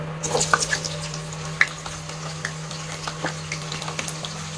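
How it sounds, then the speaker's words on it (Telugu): Chopped onion goes into hot oil in a pan, giving faint, scattered crackles and sizzle over a steady low hum, with no talking. "ఇప్పుడు ఒక ఎర్రగడ్డ ఇలాగా కట్ చేసి పెట్టుకున్నా అదే వేద్దాం"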